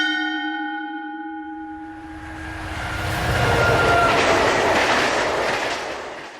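A Tokyo subway train begins with sustained chime-like tones that fade into a swelling rumble and rattling clatter as it runs, loud and close with no voices.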